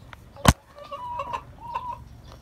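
Farm chickens cluck nearby in a few soft, short calls after a sharp knock, fairly close and without talk.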